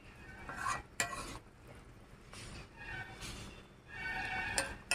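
Boiled potato is mixed with mustard oil in a bowl by hand, soft squelching stirs with a couple of sharp clinks of utensils, quiet and close without talk.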